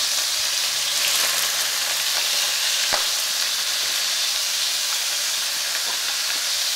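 Steak sizzles in a very hot pan with a dense, steady hiss and crackle that continues throughout, with a few faint clicks and no talking.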